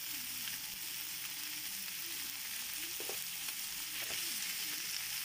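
Peppers and onion frying in a pan for alambre, giving a steady loud sizzle with a few scraping stirs partway through, close up and without talk.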